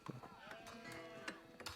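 Cattle low and moo in the Age of Empires IV game soundscape, a quiet, brief bovine call among soft game effects, with no talk over it.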